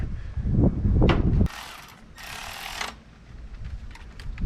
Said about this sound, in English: Bolt this guy back together. Let's clip there. It's going to be 10 millimeter.